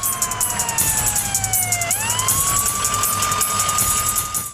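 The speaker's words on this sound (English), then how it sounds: "And then comes the ambulance." An ambulance siren wails loudly and steadily, its pitch sweeping down and then rising again as the vehicle approaches, with engine rumble underneath.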